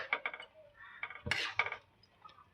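A metal lid clanks off a pot of fish and potato curry, with a scatter of quiet clinks and scrapes of dishes and utensils around it, close but soft.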